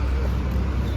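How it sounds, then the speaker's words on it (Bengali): A Tata Punch CNG car engine runs with a steady, low, continuous rumble and broad noise, heard up close for a brief moment. "Tata CNG পাঞ্চের engine."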